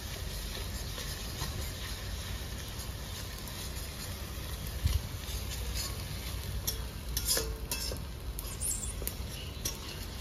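Ginger garlic paste is stirred in a pan for a fish roe masala curry, giving a soft, continuous scraping and faint sizzle with a few light taps, close but quiet, with no voices.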